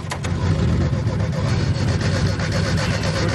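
A fire truck pump motor runs with a loud, steady, rough engine drone that holds constant throughout, and a voice is faintly audible underneath.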